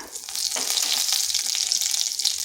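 Whole cumin seeds sizzling in hot mustard oil in a kadai, a bright, dense hiss and crackle that stays steady and close for a couple of seconds with no talking.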